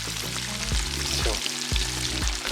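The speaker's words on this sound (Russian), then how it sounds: "Хочу именно, чтобы они как во фритюре жарились." Chicken wings deep-frying in hot oil give a steady, close sizzle with bubbling crackle, briefly broken by a few low knocks.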